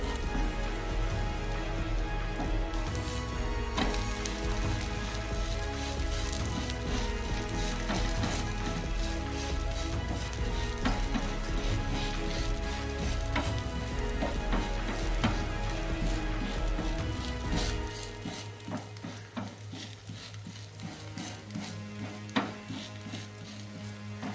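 Potato dosa sizzling steadily on a hot pan after being flipped, a dense crackling hiss that holds even and close for most of the time, then thins and quiets near the end.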